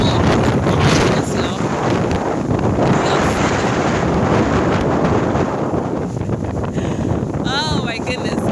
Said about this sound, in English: It's blowing out here.